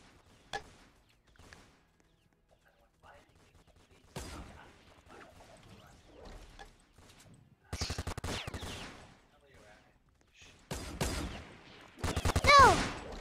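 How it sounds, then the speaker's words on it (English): Gunfire aimed at the player in Roblox Fortnite Simulator, scattered sharp shots early, then rapid bursts of firing building toward the end, fairly close, with quiet gaps and faint movement sounds between. "Someone's trying to shoot at me."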